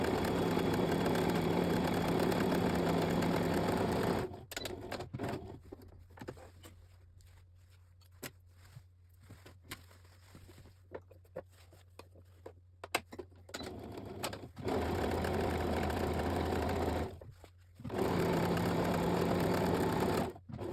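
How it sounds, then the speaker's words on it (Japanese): A sewing machine stitching a cushion cover runs in rapid, close, steady bursts, pausing for several seconds in the middle and then starting and stopping again near the end. "これでミシンで縫っていきます。"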